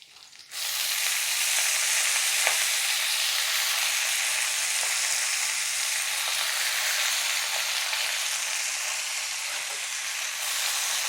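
Kardai greens hit hot tempering oil with green chillies, bursting into a loud hissing sizzle that holds steady and fades only slightly, close and continuous, with no talking.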